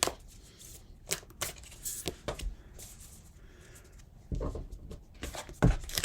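Moonology oracle cards are shuffled by hand close up, giving soft riffling and slapping bursts with short pauses between them, and no voices over them.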